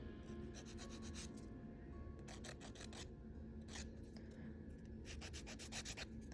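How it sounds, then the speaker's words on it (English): A nail file shapes a fingernail coated with dip powder, making close, faint rasping strokes in short rhythmic bursts with brief pauses between them. "I'm going to take my trusty file and just kind of shape it back up."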